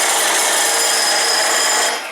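A prop drill housing runs loud and steady for about two seconds, giving off a harsh, rasping mechanical buzz like a jackhammer, with no talk over it.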